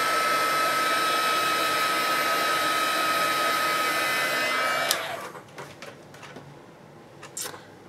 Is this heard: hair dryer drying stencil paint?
yes